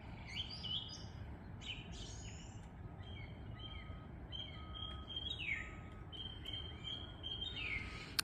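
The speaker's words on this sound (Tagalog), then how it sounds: "Nakakamiss yung ganyang mga huni ng ibon." Birds chirp and tweet at a distance, scattered high calls over a steady low background rumble, with no one speaking.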